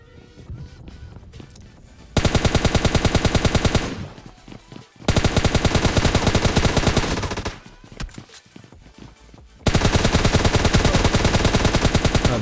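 Gunfire in PUBG Mobile Lite, loud sustained bursts of rapid automatic shots in three long volleys separated by brief quieter gaps.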